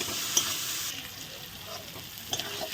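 Fried potatoes with masala sautéed in a pan produce a continuous gentle sizzle, with occasional light clicks and scrapes from the stirring spoon, close and fairly quiet, no one speaking.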